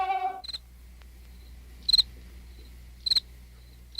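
A cricket chirps in short, sharp bursts at steady intervals against a quiet background, preceded by a brief tonal snippet at the start.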